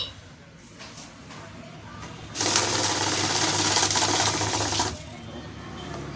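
A Folla FM-800V money counter machine riffles through a stack of banknotes in a loud, dense whirring burst of about two and a half seconds, with quieter machine hum before and after.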